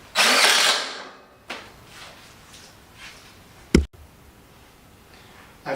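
A power drill drives a stitch screw into a custom gutter with one loud whirring burst at the start, then faint clicks and a sharp metallic knock near the end.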